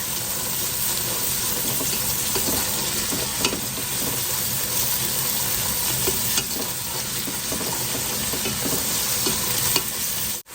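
Ginger garlic paste sizzles with onions in a pan while cooking chicken biryani, a steady broadband frying hiss with stirring scrapes and small clinks throughout, close and fairly loud, with no talking.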